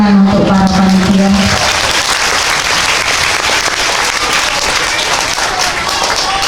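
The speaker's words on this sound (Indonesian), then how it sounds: "Tepuk tangan untuk para panitia." An indoor crowd at an Islamic boarding school talent festival breaks into loud, sustained applause for the organizing committee, with a voice speaking briefly at the start over the clapping.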